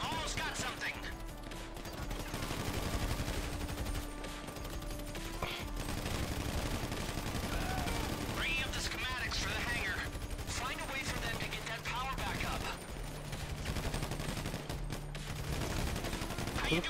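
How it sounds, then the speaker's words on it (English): Repeated bursts of gunfire rattle through a Grand Theft Auto V shootout, continuous and mid-distance across the whole stretch, mixed with game noise and players talking over it. "Who the fuck's shooting me from behind,"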